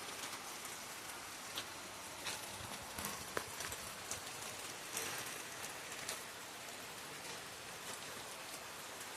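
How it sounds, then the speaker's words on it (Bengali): Heavy rain falling outside a closed shop, a steady broadband hiss with scattered drop impacts throughout, fairly close, with no voices. "এই দেখে বৃষ্টি হচ্ছে।"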